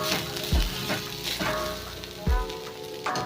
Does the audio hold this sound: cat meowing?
no